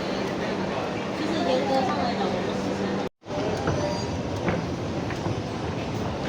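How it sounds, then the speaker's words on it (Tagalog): Loud rumbling of an MRT metro train in Malaysia with rattling wheels and a brief cut in the middle, people talking underneath the roar. "Sasakay kami ng MRT."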